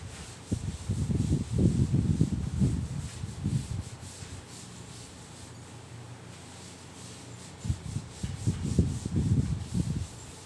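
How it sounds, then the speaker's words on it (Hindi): A classroom board is rubbed clean in two bursts of steady back-and-forth scrubbing strokes, close and fairly loud, with a quieter pause in between. "इसको अब मैं रब कर दे रहा हूं"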